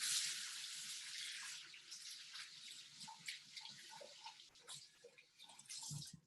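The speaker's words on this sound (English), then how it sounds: "I'm gonna wash my hands." Hands are washed under a running kitchen tap, with a hissing stream of water and irregular splashes and drips close by. Nobody speaks.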